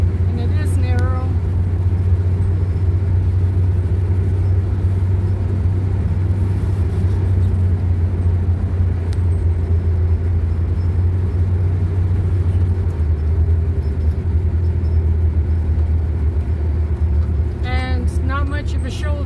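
A camper van driving along a narrow road with little shoulder makes a steady, loud low engine rumble and road hum, with brief bits of a voice at the start and end.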